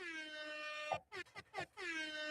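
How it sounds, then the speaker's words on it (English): An air horn sound effect played from a pad gives a long, loud blaring harmonic tone that breaks into short stuttering blasts and then holds steady again. "I love the fucking air horn."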